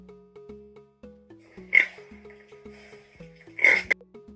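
A pig makes two short, snorting oinks about two seconds apart, sitting clearly above a soft, plinking children's tune that runs underneath.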